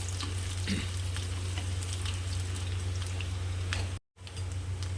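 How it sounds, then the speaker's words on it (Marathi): Finely chopped onion frying in hot oil for a Shimla mirchi bhaji, a steady close sizzle with a low hum beneath and faint stirring scrapes, briefly cutting out near the end. "कांद्याला छान परतून घ्यायचं आहे कच्चेपणा ठेवायचं नाही आहे"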